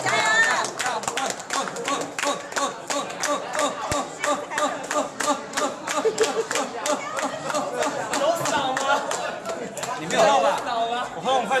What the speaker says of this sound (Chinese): 帮我鼓掌一下好不好？